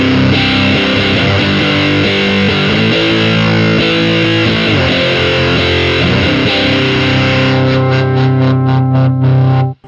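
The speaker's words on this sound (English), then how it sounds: "it's a much different, more kind of mid-scooped kind of sound" A Hoof fuzz pedal drives an electric guitar into a thick, mid-scooped fuzz tone, with loud sustained chords and bending notes played continuously, ending in quick choppy strums before cutting off.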